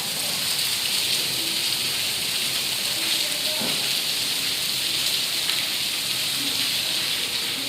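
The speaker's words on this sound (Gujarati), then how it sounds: "અત્યારે જો વરસાદ પણ એવો મસ્ત આવે ને કે વાત પૂછો પાછો અત્યારે ચાલુ થયો જ ગયો" Rain falling steadily outdoors makes a continuous, even hiss of drops that holds without a break from start to finish.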